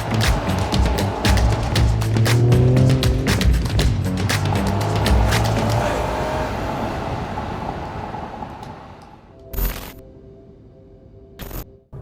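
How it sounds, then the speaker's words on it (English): An Acura TLX Type-S sedan drives off with a loud, rumbling engine and rattling clicks at first, then the noise fades to a quieter road hum, broken by a couple of sharp knocks near the end. "Let's go for a drive and find out."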